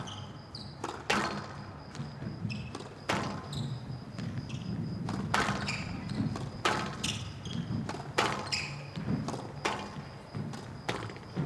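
Squash ball shots in a professional women's semifinal match, world tour finals: sharp hollow thwacks and wall thuds in an irregular rally rhythm, close and crisp over a murmuring crowd, ending in a soft volley drop.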